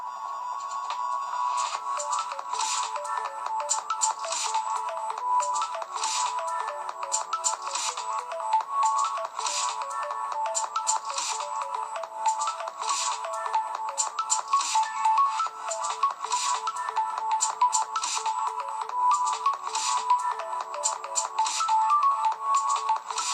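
Music plays through the small speaker of a Sony Xperia E4G phone, thin and tinny with little bass, a steady rhythmic pattern of beats continuing at moderate volume throughout.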